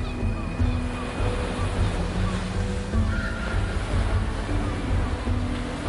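Strong wind and heavy ocean waves roar and slosh continuously around a ship in rough subantarctic seas. The dense, unbroken wash stays loud throughout.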